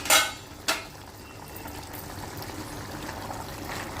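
Ivy gourd masala curry with garam masala simmering under a lid in a pan, a soft steady bubbling hiss after two brief clanks at the start, quiet and close.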